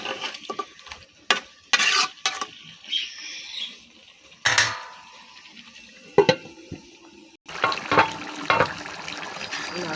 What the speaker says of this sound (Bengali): মাংসটা কষাইতেছি।